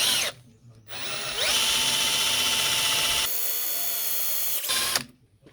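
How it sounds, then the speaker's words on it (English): A jigsaw cuts through a small clamped piece of wood for a DIY bedroom DVD shelf, its loud buzzing motor running steadily for several seconds, with a short start-up and a shift in pitch partway through before it stops. "And now I'll just cut this now with the jigsaw."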